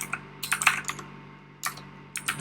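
Fingers type on a computer keyboard in short, quick bursts of crisp clicking keystrokes separated by brief pauses, close and moderately loud.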